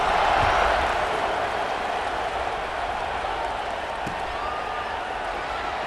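A stadium crowd in the College Football 26 video game buzzes after a score, a dense, steady roar of many voices and faint cheering that holds at an even, loud level throughout.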